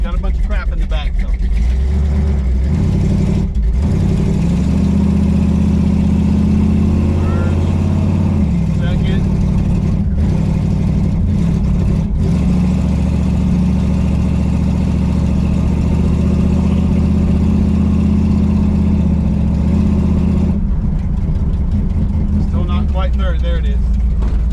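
A 1968 Dodge Charger R/T on its first drive after an engine rebuild, the V8 rumbling loud and steady from inside the car with a couple of revving swells and shifts, while people talk over it.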